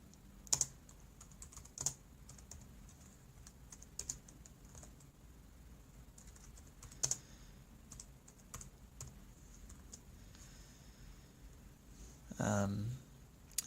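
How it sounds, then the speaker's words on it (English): Slow, sparse keystrokes tap on a computer keyboard, spaced irregularly, with a short burst of low rumbling near the end. "I'm typing with one hand here, so it's going to look slow."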